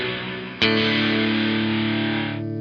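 A guitar chord struck through a Source Audio Artifact uVerb pedal with the reverb overdrive turned fully up, the first chord fading before a single loud, heavily saturated chord sustains in a dense distorted reverb tail.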